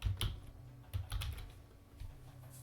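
Keys tapped on a computer keyboard while typing notes into OneNote, a quiet uneven patter of soft clicks in short bursts with brief pauses, close by and with no talking.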